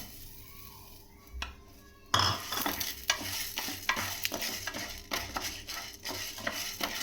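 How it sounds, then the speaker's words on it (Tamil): Black urad dal roasting in a pan, with a loud onset of dry sizzling and repeated scraping stirs against the metal that continue steadily after a quieter start. No one speaks. "இப்போ இந்த கருப்பு உளுந்த வறுக்க போகிறோம்."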